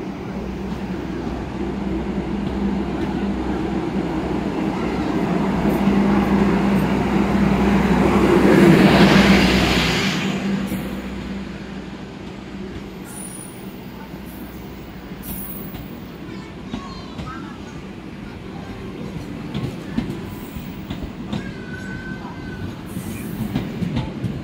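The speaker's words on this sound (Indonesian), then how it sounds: "Bangun Karta berangkat, Argo Sindoro berangkat" Passenger trains Bangun Karta and Argo Sindoro pull out of a busy Jakarta station, a loud rolling rumble with rail clatter that swells to a peak and then eases off into the station's background noise.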